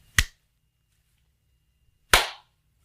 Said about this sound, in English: And sync clap.